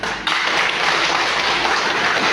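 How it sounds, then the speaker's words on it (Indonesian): An audience at a district socialisation event bursts into applause after a brief pause, the clapping staying dense and even for a couple of seconds with no talk over it. "mari secara bersama kita beri tepuk tangan dulu"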